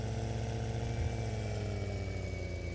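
Tractor engine in Farming Simulator 2013 idles with a steady, droning mechanical hum and a low rhythmic pulse, continuous and unchanging, with no voices over it.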